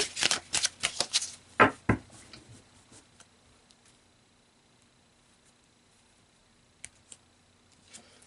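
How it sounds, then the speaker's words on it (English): Tarot cards shuffled and pulled: a burst of close riffling and snapping cards fills the first two seconds, then near silence with a few faint card taps and a soft click at the end. "I'm going to pull you a few more cards, Scorpio."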